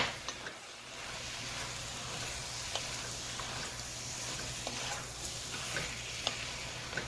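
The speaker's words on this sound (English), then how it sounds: "I want to mix this up a little bit because I want my zucchini to cook a little bit" Zucchini frying in a pan as it is stirred, a steady soft sizzle with faint scraping and a few light ticks close by, no talking.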